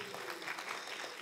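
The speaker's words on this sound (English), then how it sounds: "Would you give yourselves a round of applause just because you're here?" Steady applause from a community advisory group meeting audience, dense and even throughout, fairly faint with no voices standing out.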